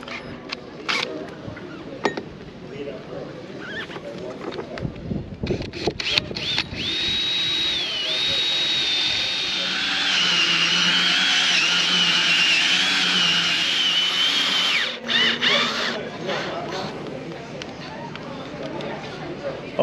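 A power drill with a hole saw cutting through a thick boat deck, a sustained grinding whine that rises and holds for several seconds, with scattered knocks before and after and a person talking around it.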